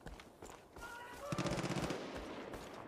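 Rapid automatic gunfire in Far Cry 5, a steady burst of closely spaced shots ringing out mid-distance over a busy game soundscape, with no talking.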